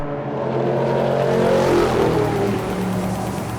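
Supercar Challenge race cars in a 2013 round at Spa-Francorchamps charge down into Eau Rouge in tricky conditions, a dense roar of several engines swelling as they pass close by, then easing, with no talk.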